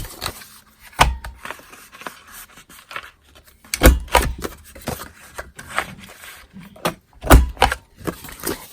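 A detailed trio paper punch rounding the corners of paper for a craft bag, heard as scattered sharp clicks and crunches with scraping handling in between, close and fairly loud.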